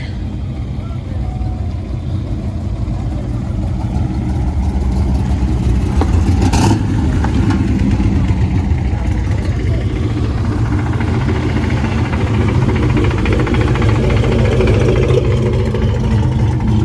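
A loud Gen 3 car engine runs and revs close by at a car show, a deep continuous rumble that builds and holds, with a voice faintly under the noise.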